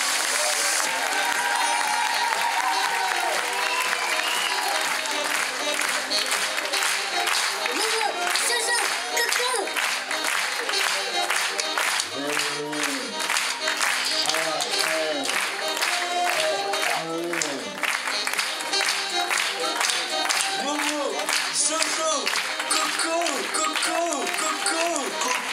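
A large audience at a live show claps continuously for a long stretch, with dense, lively applause and cheering and voices shouting and talking over the clapping throughout.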